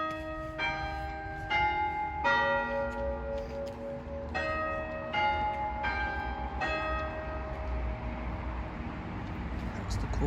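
The old bells of St. Matthew's church in Hayfield chime the quarter hour, clear ringing strikes in two spaced groups of descending tones, each note ringing on and decaying over faint outdoor background.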